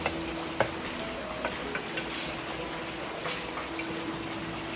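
Tempering for a crab curry sizzles softly in a pan at home, a low, continuous hiss with a few light clicks and taps scattered through it.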